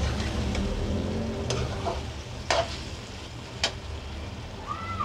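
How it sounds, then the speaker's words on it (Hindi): Chicken pieces frying in hot oil in a pan for Bombay-style biryani, a steady close sizzle throughout with a few sharp stirring clatters and scrapes of a spoon. "हमारी चिकन फ्राई हो चुकी है ऑयल में"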